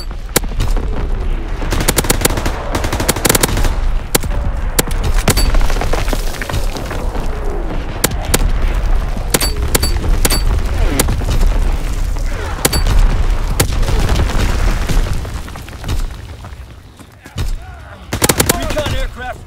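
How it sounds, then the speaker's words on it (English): A World War II battlefield in the Call of Duty WW2 game roars with a dense artillery barrage and gunfire, heavy booms and sharp cracks packed together continuously and loudly, with brief voice callouts over the din. "Firing division artillery."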